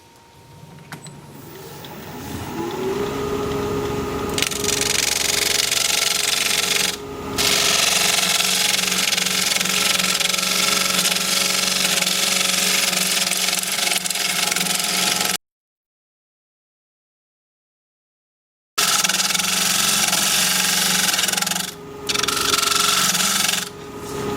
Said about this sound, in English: we'll be turning at 1400 RPM